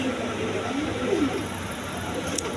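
German Beauty pigeons coo softly in a few low, rolling calls over a steady background hum, with a brief faint clatter near the end.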